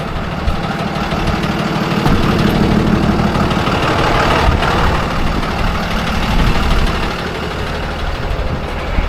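A truck engine idles steadily nearby, a dense continuous rumble with a slight knocking texture, loud and unchanging throughout.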